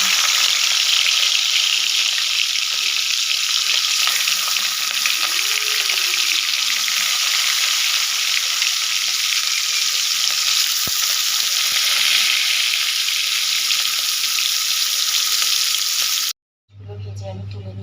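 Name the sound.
fish pieces frying in hot oil in a kadai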